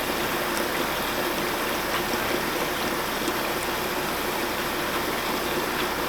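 Steady running water pours over a green luffa sponge being rinsed clean, a constant close hiss and splash with no pauses throughout.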